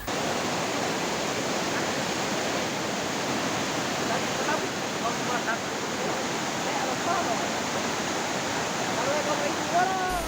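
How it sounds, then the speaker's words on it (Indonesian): Flash flood water from an overflowing river rushes through a village in Dusun 3, Desa Meranti, Bone Bolango, a dense, constant roar of turbulent torrent that stays loud and unbroken throughout with no voices. "sebuah rumah warga di Dusun 3 Desa Meranti hanyut terbawa arus banjir bandang"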